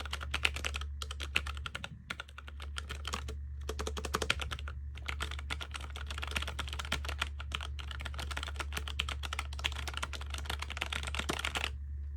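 Rapid, clicky typing on a Logitech MX Mini Mechanical 75% keyboard, close up, with a steady rhythm of keystrokes and a few short pauses, over a low background hum.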